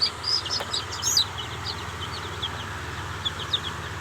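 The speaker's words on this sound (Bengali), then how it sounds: "আমার কোয়েল পাখি এবং দেশি মুরগির বাচ্চা কত সুস্থ সবল ঘুরে বেড়াচ্ছে" Small poultry chicks, quail and native chickens just hatched from an incubator, chirp in high, thin peeps scattered across the clip, with a denser burst near the start and a steady low hum underneath.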